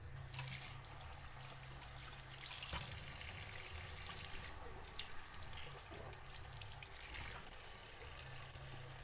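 Tap water runs steadily over fresh eggplants being washed in a kitchen sink, a continuous splashing rush with small knocks and handling sounds, fairly loud and close.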